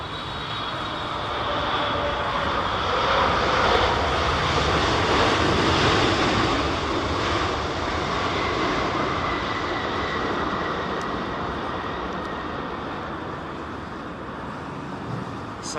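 An Icelandair Boeing 757 comes in to land at Heathrow during a storm, its jet engines giving a loud, steady broadband roar mixed with wind noise throughout, swelling slightly midway and then holding.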